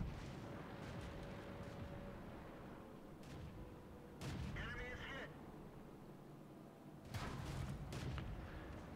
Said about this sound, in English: Oh, getting shot at.